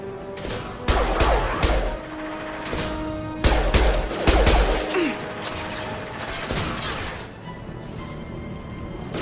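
Bursts of weapon fire in Mass Effect 2 crack out in several loud clusters, with mechanical clatter and whooshing effects between shots over a steady ambient game hum.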